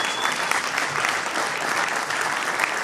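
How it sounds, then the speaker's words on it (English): Steady, full applause from the audience at a Philadelphia City Council event, dense clapping sustained throughout with a faint crowd murmur. "Let's give a warm round of applause to all of the council people."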